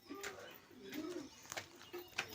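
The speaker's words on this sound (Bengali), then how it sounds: "দেখো পায়রা, তোমাদের অনেক ভালো লাগবে।" Pigeons coo in low, rounded phrases on the roof of an old, large house built generations ago, with a few sharper chirps and clicks breaking in over faint background noise.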